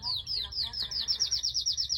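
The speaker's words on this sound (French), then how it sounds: "Vous entendez les oiseaux? C'est mes oiseaux qui sont là, qui chantent." Pet birds sing indoors, with a quick run of high, bright chirps repeating in a rapid, regular rhythm close by over a faint low background hum.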